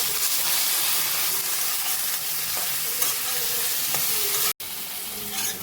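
Vegetables with cut pumpkin and carrot frying in a pan for khichuri, giving a continuous loud sizzling hiss with faint stirring clicks and a brief cut near the end.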